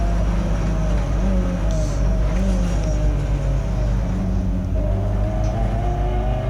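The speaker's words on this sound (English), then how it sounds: "Good acceleration out of the hairpin though." A Peugeot 206 GTi 180 race car accelerates hard out of a hairpin at Mallory Park, its engine a loud, steady in-car drone with rising harmonic whine building through the revs.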